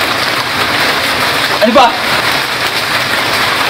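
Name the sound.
rain falling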